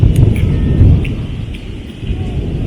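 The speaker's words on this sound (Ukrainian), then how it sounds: "Взагалі поки що дуже опасна гроза." A dangerous thunderstorm roars loud and close, heavy rain pounding steadily while deep thunder rumbles underneath throughout.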